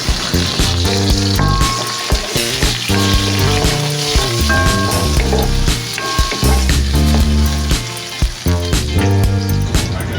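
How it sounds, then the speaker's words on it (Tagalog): Garlic and onion sautéing in a pan for a sigarilyas dish give a loud, dense sizzle, though a steady layer of music plays over it throughout. "isunod na natin ilagay yung ating sibuyas. Ayan, gisa-gisa lang natin ng konti"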